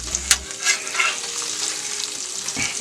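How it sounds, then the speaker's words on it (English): Crispy bacon sizzles loudly on a hot grill, a continuous close frying hiss with brief scrapes and clinks as pieces are shifted to the middle. "I'm just going to put it in the middle of the grill right here, just so it stays warm."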